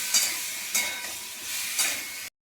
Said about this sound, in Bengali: আর একটু হলুদ দিয়ে ভালো করে একটু কষে নিই